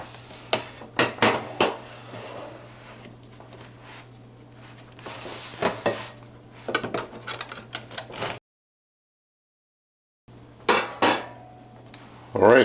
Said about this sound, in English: I'm going to put it into this basically bread slicer, and I'm going to slice it up.